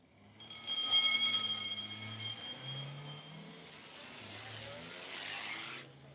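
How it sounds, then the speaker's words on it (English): An ambulance pulling away in a 1952 radio drama sound effect, a steady car engine rising then holding, with a high whining tone near the start and a long fading rush as it drives off. "The ambulance drove off to the local hospital."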